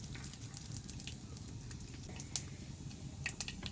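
Mustard, cumin and fenugreek seeds crackling in hot oil in a home kitchen, a soft steady sizzle with scattered sharp pops, one louder snap standing out, heard close with no talking.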